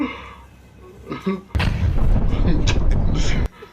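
A deep, loud bomb blast bursts in after a moment of indistinct voices, its low rumbling roar sustained for about two seconds before cutting off abruptly.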